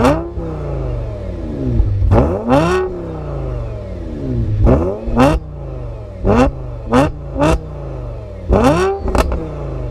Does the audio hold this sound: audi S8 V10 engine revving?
yes